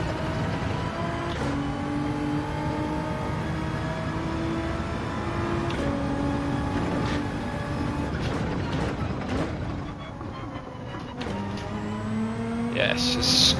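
A race car engine in a racing video game on medium tyres drones steadily throughout, rising and falling in pitch as it revs through gears, while someone talks over it.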